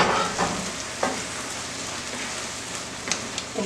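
Scrambled egg being stirred through a sizzling low carb stir fry in a hot pan, with a steady close crackle and a few scraping stirs and knocks of the utensil, no talking.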